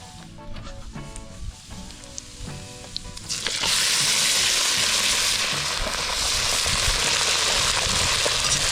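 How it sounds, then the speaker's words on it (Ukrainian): Pork meat for a Transcarpathian bograch sizzles loudly in a pot as it is fried and stirred, a steady broadband hiss that kicks in after a few seconds of quieter, tonal background sound. "Підсмажуємо м'ясо, щоб воно було з золотистою корочкою"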